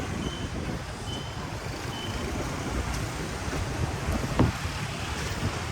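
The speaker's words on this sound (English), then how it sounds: "Windy day." Wind blows steadily outdoors in Pattaya, a loud, continuous rumble and buffeting against the microphone with a few faint beeps in the background and no talking.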